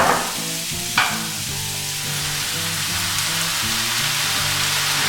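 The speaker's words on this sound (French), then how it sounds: "Donc maintenant on rajoute les pois chiches." Chickpeas drop into a pan of hot tomato sauce, setting off a loud, continuous sizzle with a soft stirring scrape about a second in, close and steady throughout.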